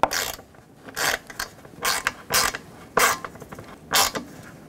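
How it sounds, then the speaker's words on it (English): A screw being tightened on the radiator cooling fan of a 2009-17 Chevy Traverse gives repeated short bursts of ratcheting, about seven close strokes with brief pauses, and no talk. "Now take the screw and tighten it down."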